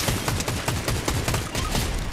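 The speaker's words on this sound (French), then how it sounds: "il tire de derrière la montagne, gros." Rapid gunfire in the video game Fortnite on PS5, a dense, loud fusillade of quick shots rattling continuously through the whole short stretch.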